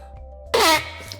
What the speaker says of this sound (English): That sneeze snuck up on me and my hands were too full to mute.